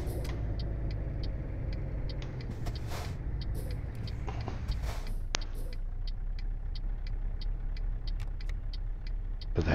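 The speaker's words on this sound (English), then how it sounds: "I can't pause because the truck is moving." Truck engine in Euro Truck Simulator 2 runs as a steady low drone the whole time, with brief hiss bursts and a regular soft ticking like a hazard indicator.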